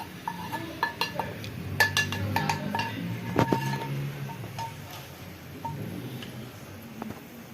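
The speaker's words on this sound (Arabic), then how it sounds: "ومن بعد كنحطوها في اناء فيها بحال هكا، وكنكبو على الزيت ديالها بهاد الطريقه هادي" Garlic cloves dropped into a glass dish and olive oil poured over them, a series of light clinks and taps with a soft pouring trickle, close and quiet, no talking.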